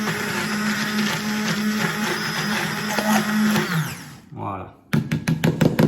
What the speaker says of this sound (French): Je vais lui donner un petit coup de mixeur pour vraiment être sûr, pour bien émulsionner.